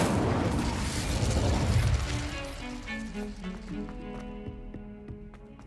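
A fire spell cast in Hogwarts Legacy: a loud, roaring burst of flame opens the moment, then gives way to shimmering, ringing magical tones that fade out over several seconds.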